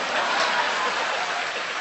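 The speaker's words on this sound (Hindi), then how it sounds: "इधर से तालियां कम बज रही हैं, इधर का मामला ठीक है।" A live audience claps at a Hindi-language comedy show, producing a dense, steady wash of many hands that holds evenly for a couple of seconds at moderate loudness.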